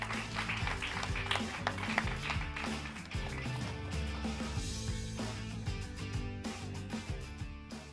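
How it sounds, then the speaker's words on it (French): A studio audience applauds steadily as a guest joins the set of a French careers programme, a dense, continuous patter of many hands with no pauses. "de nous rejoindre, toujours sous les applaudissements de notre public"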